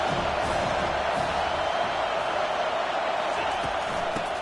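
A large stadium crowd at a college football game roars in a steady, dense wash of cheering that holds loud and unbroken throughout.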